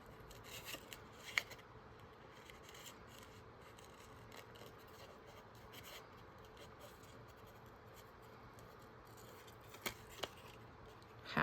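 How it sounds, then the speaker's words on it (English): Tiny scissors cut paper for a spring journal craft, giving quiet, sparse snips and light rustling against a low background hush, with a couple of sharper clicks. "I feel very Bigfootish with these little tiny scissors."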